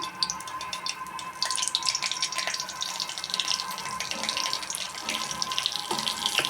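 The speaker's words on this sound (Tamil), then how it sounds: "பெருங்காயத்தூள் நல்லா பொரிஞ்சிட்டு வருது" Asafoetida powder with mustard seeds and urad dal sizzles in hot sesame oil during a tempering, a close, continuous crackling hiss that grows busier after the first second.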